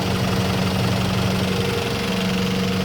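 A diesel bus engine idles in Liverpool, a steady close rumble with a knocking, vibrating texture and a constant low hum, unbroken and without speech.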